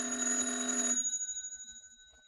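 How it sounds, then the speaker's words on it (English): An old-style telephone bell rings in a fast trill for about a second, then stops and its tone hangs and fades away alone in a quiet room. "Daisy, the phone. It's ringing"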